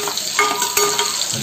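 Onions and slit green chillies frying in a pan on a home stove, with a steady close sizzle and a few louder scrapes of stirring.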